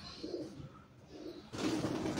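Antique-breed pigeons give low, close coos in short pulses, with a louder, rustling burst at the end and no talk.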